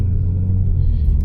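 A deep, loud exhaust rumble from a nearby BMW M4 Competition with a modified exhaust idles and throbs steadily, low and booming throughout the short stretch.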